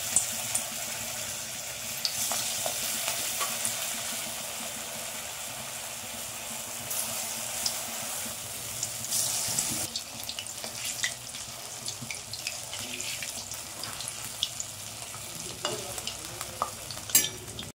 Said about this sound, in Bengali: তাই এক এক করে ভেজে নেব।